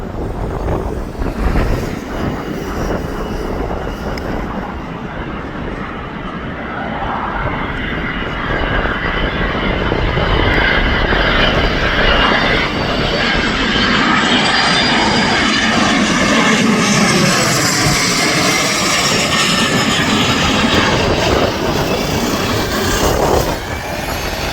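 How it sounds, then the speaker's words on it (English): A business jet from Paris comes in to land at Manchester Airport, its loud, steady engine roar filling the whole stretch with a broad rushing sweep as it passes close overhead. "we've got a business jet coming in from Paris"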